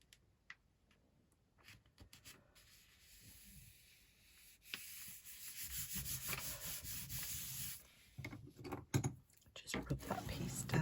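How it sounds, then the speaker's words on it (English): Paper piece rubbed down by hand onto a craft folio, a soft close scuffing and rubbing that rises and falls in strokes, with faint taps around it. "Just rub that piece down."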